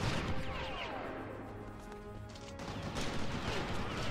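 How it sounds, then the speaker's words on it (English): A turret in Oddworld: Stranger's Wrath fires a rapid burst of sharp gunfire, followed by trailing, ringing debris and whooshing effects, then more crackling shots near the end. "Oh, there's a turret."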